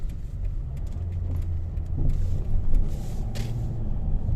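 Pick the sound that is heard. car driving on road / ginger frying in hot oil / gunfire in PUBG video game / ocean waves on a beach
car driving on road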